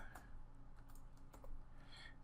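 Someone typing a password on a computer keyboard, a few quick faint key clicks spaced over two seconds in a quiet room.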